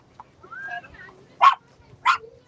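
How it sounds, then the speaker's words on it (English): A couple of puppies give short, sharp yips and barks, with two distinct high barks standing out over quieter whimpering sounds, fairly close by at an outdoor gathering. "A couple of puppies there."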